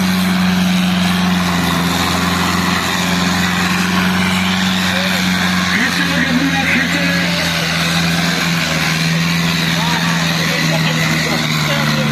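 A tractor pulling a loaded trolley in a village pulling contest runs with a loud, steady low engine drone throughout, while people talk over it.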